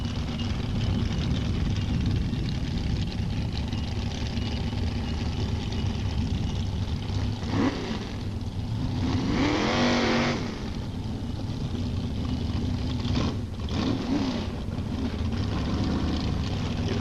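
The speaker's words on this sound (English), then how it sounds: "Monty Deal's short rear engine dragster is sponsored by Dollars and his wife" A short rear-engine dragster runs at a drag strip with a steady loud engine roar throughout, while a couple of higher whining passes swell and fade in the middle and near the end.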